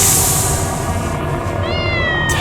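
A cat meows once near the end, a short rising cry over a steady ambient hum inside a tense sci-fi audio drama scene with no talk.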